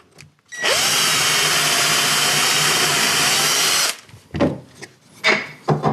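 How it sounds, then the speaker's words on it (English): An electric drill whirs loudly and steadily for about three seconds while boring through one piece of wood stacked on another on a bench, then stops, followed by brief handling noises. "And I'll put it on top of the other one and I'll drill through."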